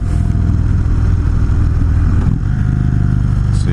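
Indian Chief Classic motorcycle engine loud and steady at low RPM while engine braking, a continuous deep throbbing drone with a brief dip in the middle before resuming, no voices.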